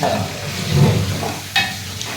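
Paneer curry tempering (vaghar) sizzling and being stirred in a pan, a steady close hiss with a brief sharper burst of spatter near the end, no voices.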